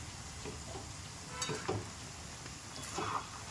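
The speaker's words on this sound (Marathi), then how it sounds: "बघू शकता तेल साईडला कसं उकळत आहे" Coconut oil with hibiscus flowers boiling in a pan, a steady low sizzle and crackle with faint bubbling pops, continuous and fairly quiet.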